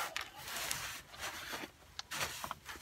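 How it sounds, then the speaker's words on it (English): A hand ratchet working a differential cover bolt loose on a Ford F-350's Dana 60 front axle gives a series of quick, close clicking and scraping bursts in uneven clusters, with short pauses between pulls. "You could probably break it with just a regular ratchet."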